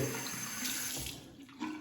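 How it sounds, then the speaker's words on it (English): Hot water pours from a tap into a marble shaving cup, a soft continuous splashing stream that shifts in tone as the cup fills, quiet and close with no voices. "Fill it halfway with hot water."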